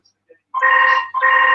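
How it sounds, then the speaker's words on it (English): A mobile phone rings with two sustained electronic ring bursts in quick succession, loud and close, following a brief faint tick. "That's my phone, everyone."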